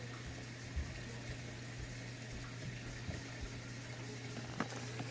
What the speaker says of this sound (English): That's the water cycling through the clean filter now.